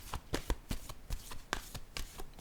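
Tarot cards shuffled by hand, a close run of quick rhythmic riffling flutters repeating evenly through the clip with no talk.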